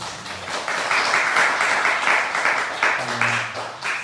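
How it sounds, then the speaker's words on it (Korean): A church congregation at a Sunday worship service bursts into sustained applause, a dense crackle of many hands clapping for several seconds, with a faint voice underneath. "한 주간 동안 함께 하셨던 모든 분들 위해서 박수 한번 치도록 하겠습니다"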